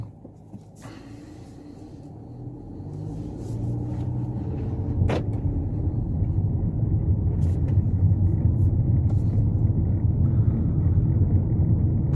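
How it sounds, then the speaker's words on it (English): A Kia Seltos 2023 with a 2-litre four-cylinder petrol engine and CVT, running with a steady low hum that slowly builds in intensity, one brief sharp tick partway through. "under the bonnet we have a 2-litre 4-cylinder petrol with 147 horsepower"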